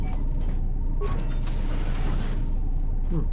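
Morgue door in Star Wars KOTOR II's Peragus Mining Facility, a loud mechanical creak and grinding slide with a steady machine hum throughout, close and alone without voices.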